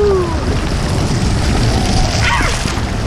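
Loud, continuous rushing and spattering of water from a water wall at a pool at Disney's Coronado Springs Resort dominates, close and unbroken, with muffled thumps underneath.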